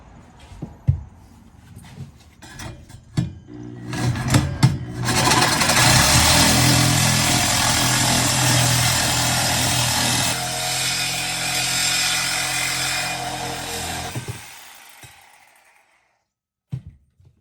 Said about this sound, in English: I've been able to get some pretty dang straight cuts with the Sawzall